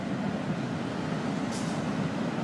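A Florida East Coast freight train rumbles steadily past a grade crossing on the main line, a continuous low roar and rolling rattle at moderate distance with no voices.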